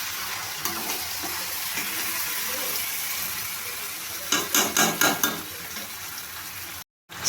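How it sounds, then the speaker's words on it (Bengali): Chicken stir-fried with masala in a pan for a spicy curry: a continuous close sizzle with a run of scraping stirs near the end, then a brief dropout. "এবার আমি চিকেনটাকে ভালোভাবে কষিয়ে নেব"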